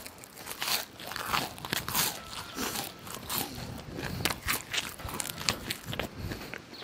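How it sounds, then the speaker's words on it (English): A flaky almond pastry crunches as it is bitten into and chewed, producing a close, steady run of crisp crackling bursts with no talking over it. "you heard that crunch, that ASMR, pastry ASMR"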